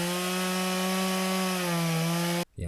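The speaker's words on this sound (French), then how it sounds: "Une tronçonneuse, 120 décibels." A chainsaw running at a steady pitch makes a loud, continuous buzzing drone with strong harmonics, cutting off abruptly at the end.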